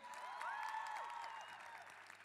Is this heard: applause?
yes